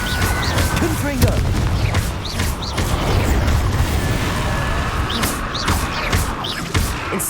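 Confringo explosive spell blasts in Hogwarts Legacy, a steady run of loud booming bursts and crashes layered over a dense, rumbling battle din with scattered sharp hits throughout.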